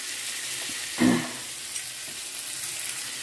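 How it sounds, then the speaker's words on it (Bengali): Steady soft sizzling of tomatoes frying in a pan, with one brief louder burst of stirring or scraping partway through; no voices. "এবার এটাকে টমেটোটাকে কষাতে দেবো, মানে ভালো করে ভাজা ভাজা করে দেবো"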